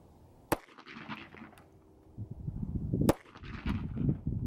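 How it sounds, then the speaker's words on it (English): Two sharp, loud pistol shots from an SCCY CPX-2 at a shooting range, spaced a few seconds apart, each followed by a brief echo and rustling handling noise. "I'm going to get a nice firm grip on the gun because it does buck pretty good when you fire it."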